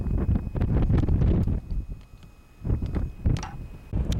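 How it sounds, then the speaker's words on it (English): Gusty wind buffets the microphone on a hill walk in the Yorkshire Dales above Littondale, coming in heavy low roaring bursts that briefly ease in the middle before surging again. "the wind is causing us a lot of problems"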